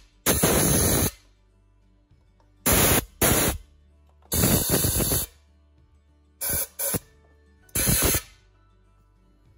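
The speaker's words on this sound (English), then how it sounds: "Let's go ahead and blow it all out." Compressed air blowing out steam vent fittings on an LS engine swap, six short loud hissing blasts of varying length separated by quiet gaps.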